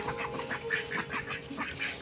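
A flock of ducks just let out for feeding quack and chatter continuously nearby in a village setting, with overlapping nasal calls and a steady background hum.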